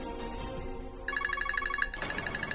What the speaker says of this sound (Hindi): बिरजू के फोन